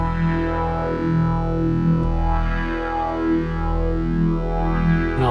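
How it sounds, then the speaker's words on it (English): A synth tone swept by a flanger, its whooshing comb-like sweeps rising and falling steadily over several seconds. "now we'll put the flanger on this"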